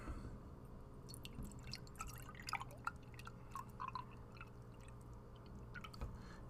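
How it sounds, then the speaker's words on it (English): Milk poured from a carton into a cup, with soft dripping, splashing liquid sounds that come in small bursts and trickles over a low steady background hum. "I got my carton of milk. Open that baby up, give it a little pour."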